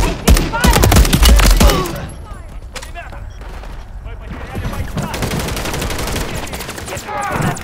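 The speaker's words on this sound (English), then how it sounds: "I'm taking fire!" Gunfire in a Call of Duty video game: loud, rapid machine-gun bursts and close shots open the stretch, then lighter fire continues under voices talking before another dense volley near the end.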